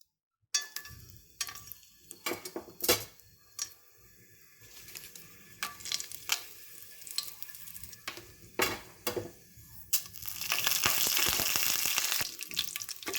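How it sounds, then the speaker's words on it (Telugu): Whole spices, cashews and mint frying in oil on low heat for a vegetable pea pulao, with a steady sizzle broken by repeated clicks and scrapes of stirring, growing into a louder, denser hiss near the end. "ఇవన్నీ సిమ్లో పెట్టుకొని ఫ్రై చేసేసుకోవాలి."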